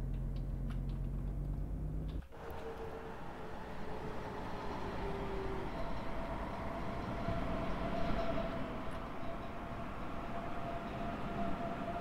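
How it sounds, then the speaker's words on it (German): A Frankfurt S-Bahn class 423 electric train rushes past in the opposite direction in Train Sim World 4, a sudden whoosh of passing carriages followed by a sustained rumbling rail roar, fairly quiet overall. "Da kommt uns schon eine S-Bahn entgegen, die 423 der S-Bahn Frankfurt."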